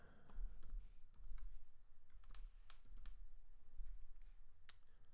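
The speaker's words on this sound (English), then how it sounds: "just type in your password" A password is typed on a computer keyboard, a quiet, steady patter of distinct key clicks with a few sharper taps, close and alone with no talking.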